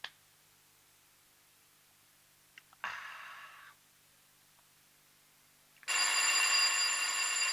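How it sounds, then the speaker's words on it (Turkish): An old telephone bell rings in bursts, a short ring first and then a longer, louder ring after a pause, set against a quiet room. "Kız Zehra, baksana şu telefona."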